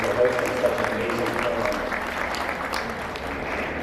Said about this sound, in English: So if you can join me in a round of applause for Partap World School family